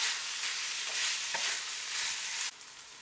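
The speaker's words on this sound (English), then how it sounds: "I'm going to give that a good stir." Kimchi stew being stirred as hot pepper paste and red pepper flakes go into the pot, a steady close sizzle with soft scraping of the spoon, ending in a quieter simmer.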